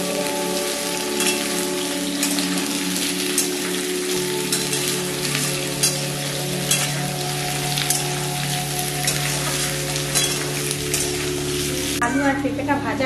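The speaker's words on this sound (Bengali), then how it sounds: "আলু আর পেঁপেটা ভাজা হয়ে গেছে," Potato and papaya pieces fry in hot oil with a continuous close sizzle and crackle, light stirring noises and a steady low hum underneath, and no speech.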